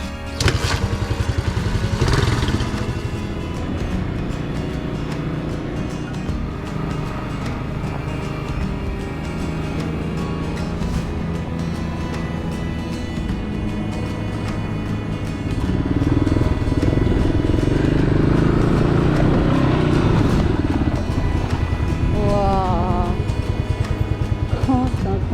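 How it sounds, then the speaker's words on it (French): A motorcycle ride along the coast toward Comillas, Spain, with a continuous engine drone and wind rush throughout, pitch rising and falling with gear changes, and a voice briefly audible over the ride. "petit tour en moto et direction Comillas"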